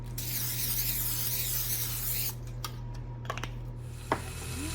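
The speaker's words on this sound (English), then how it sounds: "I'm going to lightly spray it with some olive oil." Olive oil spray misted onto a pie dish, a broad steady hiss lasting a couple of seconds under a constant low kitchen hum, followed by a few faint clicks and light handling taps.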